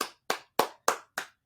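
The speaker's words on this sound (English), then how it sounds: "clap it up for New Mexico" Five sharp, evenly spaced claps from a single pair of hands, close and loud, each ringing briefly before the next, cheering New Mexico.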